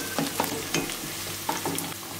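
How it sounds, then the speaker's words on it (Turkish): A spoonful of red pepper paste is worked around a hot pan with oil, the sizzle running steadily under repeated scraping stirs from a spoon or spatula, close and clear. "Şöyle birazcık salçayı içerisinde dağıtıyorum."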